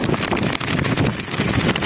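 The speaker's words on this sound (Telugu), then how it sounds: "చూడు గాలి ఎట్ట వస్తుందో చూడండి సౌండ్ కనబడుతుందా" Strong cyclone wind gusts roar steadily into the microphone in rain-soaked village weather, a loud, continuous buffeting rumble with no speech.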